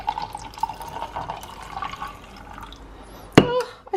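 A spoon stirs an iced drink packed with ice, giving steady close sloshing with scattered small clinks of cubes against the glass, then a sudden loud knock and splash near the end with ringing clinks as it fades.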